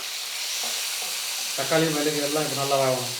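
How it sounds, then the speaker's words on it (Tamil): Small onions and tomato frying in a pan: a steady, close hiss of sizzling oil, with a voice talking over the latter half. "சின்ன வெங்காயம் வந்து நல்லா ஒரு ரெண்டு கைப்பிடி அளவுக்கு சேர்த்துக்கிறேன் வெங்காயம் வந்து நல்லா வதங்கட்டும்"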